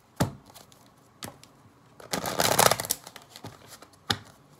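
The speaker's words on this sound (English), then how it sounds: "I know some of you don't like that I shuffle in front of you" Tarot cards being shuffled by hand in a few short riffling bursts with quiet gaps between, close up, with a longer fuller shuffle in the middle.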